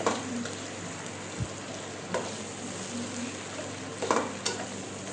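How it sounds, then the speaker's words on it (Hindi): Beef with yakhni stock frying and being stirred in a pot for degi-style pulao, a steady close sizzle broken by a few scraping stirs and clinks. "इसमें हमने यखनी शामिल करके थोड़ी देर और भूनना है।"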